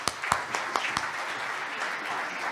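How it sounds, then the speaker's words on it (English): Audience applause at a Wayne State University event in Detroit: dense, steady clapping from a crowd with a few sharp close claps near the start, moderately loud and sustained throughout. "Give them a round of applause."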